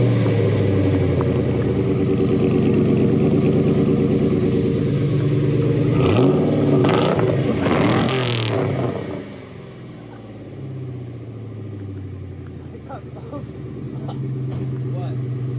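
A Ford Mustang with a 2V engine and a cat-back exhaust rumbles at idle, with a burst of louder revving partway through before it settles back to a steady low drone.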